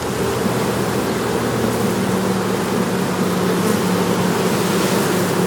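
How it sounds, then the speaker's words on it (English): Bees crowd a special queen cell-building board in a hive, producing a steady, dense buzzing hum that stays close and continuous throughout without any talking. "Lots of bees, looks good."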